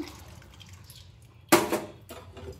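Water splashes into a simmering pan of curry with coriander and mint in two short pours: a loud burst, then a smaller one, over a quiet background.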